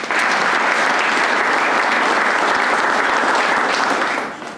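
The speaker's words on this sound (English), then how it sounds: "So I think they also deserve a round of applause." Loud, dense applause from an audience at an agriculture awards event, holding steady before tapering off at the very end.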